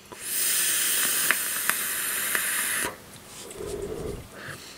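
Vapor drawn through an SQuape X[dream] atomizer on an e-cigarette gives a loud, close, steady hiss for nearly three seconds, with faint clicks. It cuts off abruptly, followed by a quieter breathy exhale.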